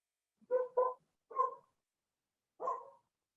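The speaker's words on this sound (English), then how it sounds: "it sounds like you have a dog that wants to ask a question" A dog barks during an online meeting: four short, fairly faint barks, the first two in quick succession and the others spaced apart, against near silence.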